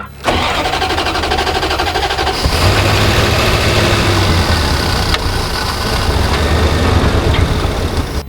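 A Dodge Ramcharger that sat for 20 years cranks briefly and then catches, its engine starting and settling into a loud, steady, rough idle close by, with no talking over it.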